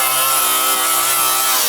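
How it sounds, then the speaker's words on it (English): Angle grinder cutting into an old car, a loud, steady abrasive whine that holds up close without a break for the whole moment. "let's just use an angle grinder."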